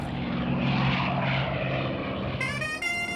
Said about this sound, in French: chaque jour, nos avions militaires décollent pour venir en renfort des bateaux de la marine nationale.